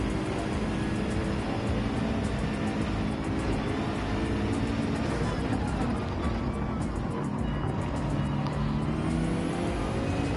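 Gr.3 race cars in Gran Turismo 7 race online at Dragon Trail. Engines drone and rev continuously and loudly, with layered whining tones from several cars running close together.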